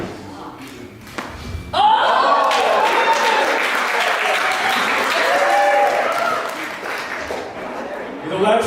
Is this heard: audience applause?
yes